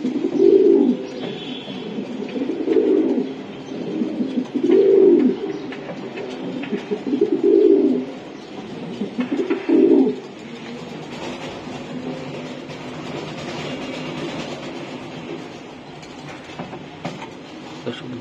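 Breeder racing pigeons cooing in a loft, several rhythmic low coo bursts repeating every couple of seconds, then a quieter stretch of murmuring.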